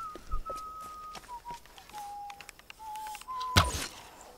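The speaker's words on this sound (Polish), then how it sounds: "Koniec gwizdania." A Tomb Raider game character whistles a string of short and held single-pitch notes, moderately faint, ending with a sharp thud.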